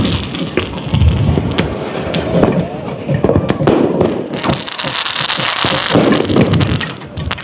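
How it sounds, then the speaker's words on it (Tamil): Fireworks burst through a crowd at a temple festival on Nainativu island, where the goddess is carried in procession with melam drums; dense crackling bangs and thuds come in rapid clusters, loud and continuous, with crowd noise beneath. "மேலதாள வாத்தியங்களோட அம்பாள் வந்து கொண்டிருக்க வான வேடிக்கைகள் நடந்து கொண்டிருக்கிறது."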